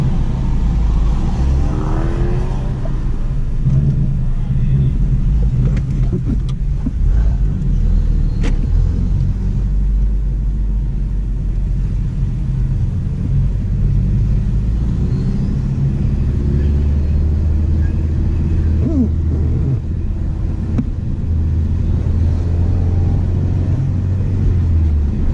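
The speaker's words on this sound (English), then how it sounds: "Following the Mustang with the instructors driving, just get a feel for the racing line." A car circles a racetrack behind a Mustang, its engine droning loudly and steadily with constant road rumble and wind throughout, rising and easing slightly with throttle, heard from inside the cabin.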